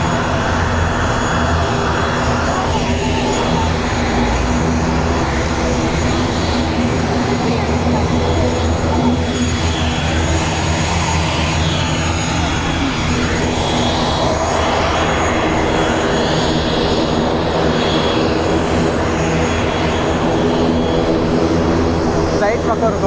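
A loud, steady roar of airplane jet engines fills an airport boarding area, a constant broadband rumble with faint tonal whine that holds throughout without pause.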